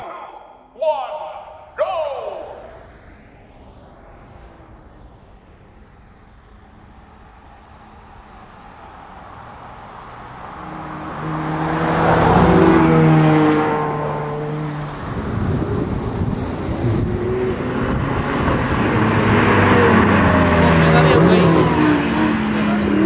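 A Ferrari with a V8 and an Audi R8 with a V10 drag race. A couple of sharp revs open the pass, then engine roar swells through rising gear pulls into a loud, sustained high-revving howl as the cars pass close by.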